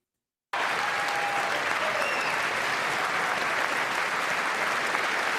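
Sustained audience applause fills a large chamber during a State of the Union address, beginning abruptly after a brief silence and holding steady and loud throughout with no talk.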